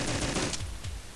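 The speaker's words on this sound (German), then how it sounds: "Die explodieren gerade alle andauernd." Rapid bursts of explosions in the video game Metal Blob Solid, a dense, loud, crackling barrage of blasts in quick succession that thins out toward the end, with no voices.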